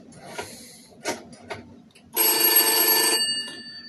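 A telephone bell rings in a shed, sounding as one loud, bright, sustained ring of about a second after a few quiet knocks and handling noises.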